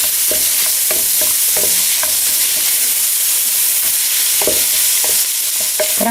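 Carrots fry in a pan while a spatula stirs them. A loud, steady sizzle runs throughout, broken by repeated sharp scrapes and taps of the utensil against the pan, close up, with no voices.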